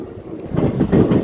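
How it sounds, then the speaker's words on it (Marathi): Brief rumble and rhythmic clatter of the Adilabad–Pandharpur Express pulling out of Purna Junction, loud and close, the wheel beats growing steadier over about a second with no talk. "तर मित्रांनो सात मिनिटं उशिराने पूर्णा जंक्शनवरून आपली ट्रेन निघालेली आहे"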